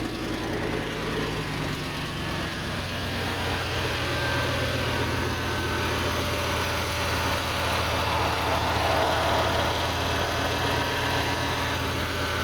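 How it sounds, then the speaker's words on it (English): A 1997 Ford F-150 pickup idling after starting, a steady low engine rumble with constant hum, loud and unchanging throughout, no talking. "Okay, start the vehicle."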